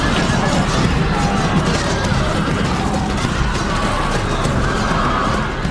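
Horses neigh amid a dense, loud cavalry battle with chariots in a strategy video game, their whinnies woven into constant clashing, rattling and hoof noise with a low rumble underneath.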